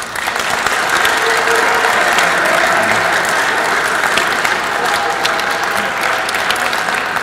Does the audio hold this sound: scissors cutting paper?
no